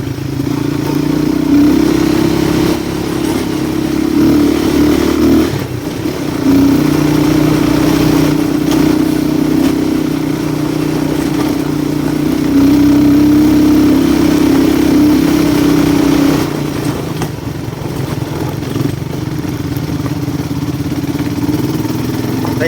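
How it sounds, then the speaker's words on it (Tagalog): Steady engines of four motorcycles rumbling close by, a continuous low drone with slight rises and dips in pitch as the bikes ride along. "Apat po kami na motor."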